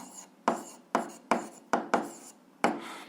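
Hand-writing strokes while working an algebra solution, six scratchy, evenly spaced strokes repeating about twice a second, close and clear with no talk.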